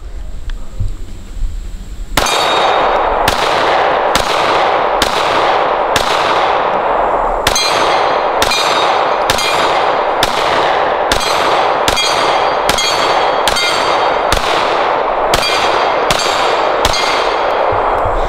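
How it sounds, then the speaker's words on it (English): A Smith & Wesson M&P9 pistol fires about fifteen sharp, loud shots at a steady, unhurried pace, each crack ringing briefly before the next. "I noticed that I'm definitely shooting slower with the M&P."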